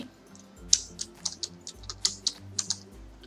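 Keystrokes on a computer keyboard while a Canva portfolio cover is being designed, a run of about ten crisp, close taps at an uneven rhythm with a low hum underneath and no talk.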